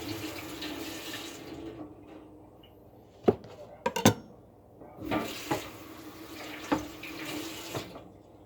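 Water runs from a kitchen tap while something is rinsed under it for a hamburger fixing, a steady splashing stream broken by a few sharp knocks and clatters in the sink, close by with no talk.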